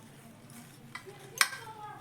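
A knife cuts a soft boiled brinjal on a plate, giving two faint, light clinks of metal against the plate in an otherwise quiet kitchen.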